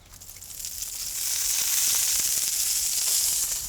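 Olive oil sizzling and hissing on a hot grill while breakfast burrito filling cooks, a loud steady crackle that swells slightly and holds, with no talking.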